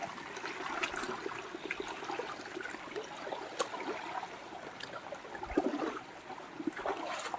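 River water flows faintly and steadily in a cold stream where crabs are caught, a soft continuous wash with small splashy ripples and occasional louder gurgles.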